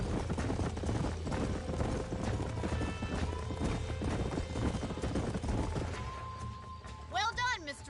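Horse hooves clatter in a rapid galloping rhythm in Red Dead Redemption, then a loud horse neighs near the end, with game background noise throughout.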